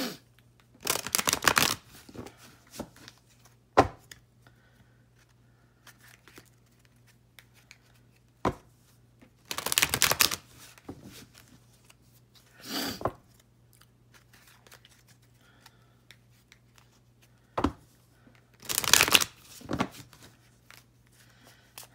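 Tarot cards shuffled by hand in a quiet room, several separate bursts of crisp, close riffling and rustling spaced a few seconds apart, with faint single taps between them.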